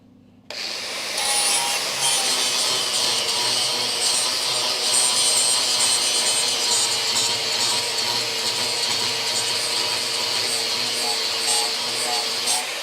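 Flap wheel on an angle grinder smoothing down welds on a Dodge Charger crew cab body panel, a loud, steady abrasive whine and rasp that starts abruptly and continues without a break.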